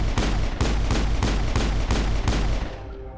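Gunfire in the video game Mass Effect comes as about seven loud, evenly spaced shots close to the listener, each a sharp boom with a short tail, then fading out.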